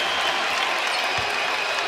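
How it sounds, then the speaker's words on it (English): Arena crowd at an NBA game between the Golden State Warriors and Charlotte Hornets, a steady wash of applause and cheering throughout, loud and continuous with no break. "Round of applause."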